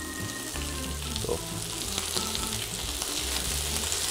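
Shrimp frying in a hot pan give off a continuous crackling sizzle, with soft stirring clinks and a brief spoken syllable.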